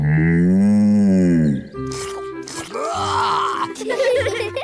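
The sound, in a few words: cow mooing in a cartoon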